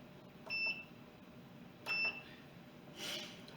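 Electronic pressure cooker beeping as it is switched to brown/sauté mode for a sausage, potato and kale soup: two short paired high tones about 1.4 seconds apart, then a softer electronic chirp, all over quiet kitchen background.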